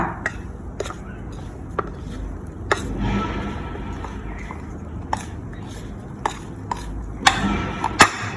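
Soft stirring and tossing sounds as jicama cubes are tossed in starch, with occasional sharp clicks of utensils against a bowl, steady and close, with no talking.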